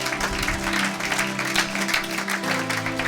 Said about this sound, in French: Acclamez pour la gloire éternelle à notre Dieu.